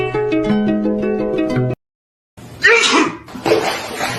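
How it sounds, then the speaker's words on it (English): A single sharp human sneeze bursts out after a pause, followed by a second shorter exhalation, near and loud, with indoor background sound before it. "I sneezed."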